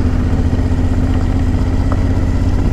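A heavy Aprilia Shiver 900 motorcycle of about 200 kg rides off-road, its engine a steady, loud, throbbing drone that holds without a break for the whole stretch.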